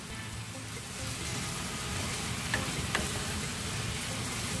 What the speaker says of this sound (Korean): 센 불로 볶아주시면 되겠습니다